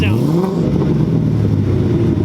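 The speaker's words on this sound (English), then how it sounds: "now he's gonna rev it so I can actually hear my own car" Up close, a modified Chevrolet Corvette C7 engine rises in a loud rev and settles back into a deep, steady rumbling idle, with brief sharp pops at the start and end.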